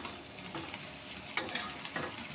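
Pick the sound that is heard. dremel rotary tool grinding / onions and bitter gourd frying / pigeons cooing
onions and bitter gourd frying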